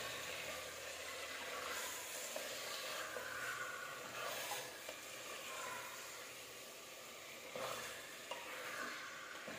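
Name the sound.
chicken frying with spices in a pan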